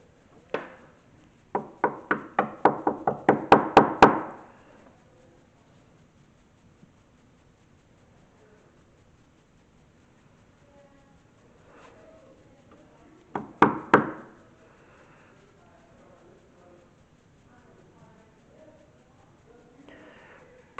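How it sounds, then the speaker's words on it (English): Knuckles rap on a surface in the rooms of Wilson Castle, a quick burst of about eight close knocks, then silence, then a shorter cluster of three or four knocks, with faint murmuring between. "Can you knock for me like this?"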